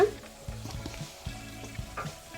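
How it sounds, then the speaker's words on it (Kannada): Tomato frying in a pan with green chili and curry leaves for bisibele bath, a soft sizzle under repeated scraping and stirring strokes of a spoon, close and moderately quiet. "ಟೊಮೆಟೊ, ಒಂದು ಅರ್ಧ ನಿಮಿಷ ಫ್ರೈ ಮಾಡ್ಕೊಳ್ಳಿ."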